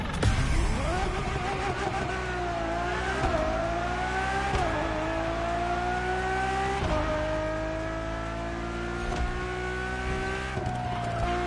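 A Ferrari Enzo supercar's engine rises and shifts through gears at high rpm, loud and close, with a strong climbing whine and abrupt changes across the run.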